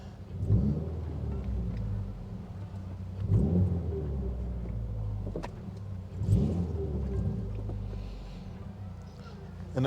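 A car fitted with a Verus throttle spacer rumbles through heel-toe downshifts, its engine swelling in three rev blips spaced about three seconds apart over a steady low drone, heard from inside the car.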